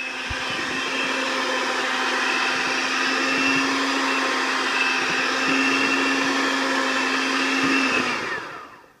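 A blender runs steadily for about eight seconds, mixing honey, coconut oil and eggs into a smooth batter for a chocolate black bean cake, with a constant whirring motor hum that cuts off at the end.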